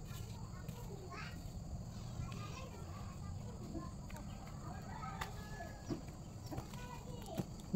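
Chickens clucking in a small home vegetable garden beside a house, close and intermittent over a steady background hum, with faint children's voices nearby.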